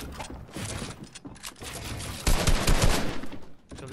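Rapid bursts of gunfire from a Fortnite match in close, clattering volleys with mechanical rattles, peaking loudest near the middle.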